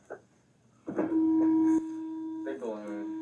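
A person blows steadily into a police station breathalyzer, making a sustained tonal hum that holds for about a second, stops, then resumes with a second long blow; close and fairly loud, with no talk over it.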